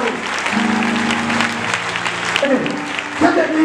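A church congregation claps and cheers continuously during a worship service, a dense wash of applause with voices and shouts mixed in throughout.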